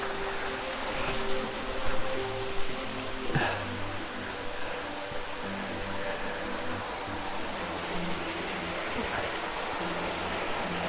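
Stream water runs low over rocks. The flow keeps up a broad, steady rushing hiss, close and continuous, with a few faint knocks and tonal hums early on and no talk.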